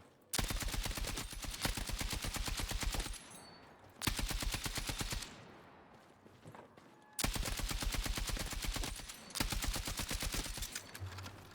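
Rapid automatic fire from a weapon in Battlefield 6, shot while moving, rattles in long, evenly paced bursts, loud and close, with brief pauses between strings of rounds.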